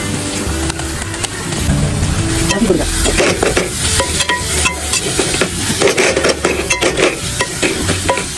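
Crushed garlic and ginger fry in a hot pan for chicken kappa biriyani, a loud steady sizzle broken by repeated scraping strokes of a stirring spoon, close and continuous with no talk.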